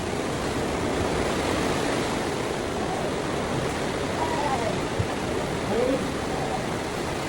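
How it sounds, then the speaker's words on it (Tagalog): Heavy rain roars as a dense, steady hiss around the listener, with a faint voice or two partly buried under it. "Ang lakas pa naman ng ulan."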